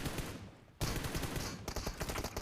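Gunfire in a shooting video game comes in dense rapid bursts, with a sharp louder volley kicking in partway through and continuing as sustained automatic fire to the end.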